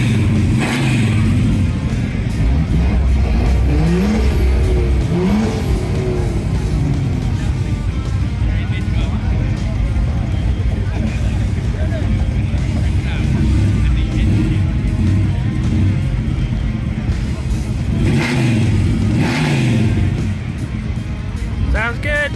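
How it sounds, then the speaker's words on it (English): A Dodge Charger rumbles and revs at a crowded car festival, with loud broadband engine noise and swelling throttle blips mixed with crowd chatter and nearby voices. "I know what the Charger over there sounds like because you guys can hear it now"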